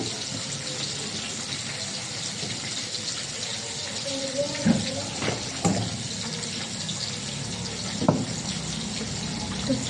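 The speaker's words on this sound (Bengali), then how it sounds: "এর মধ্যে জল দিয়ে বসিয়ে দেবো" Water gushes steadily into a cooking pot in a home kitchen, a continuous splashing pour with a few clunks and a voice speaking over it.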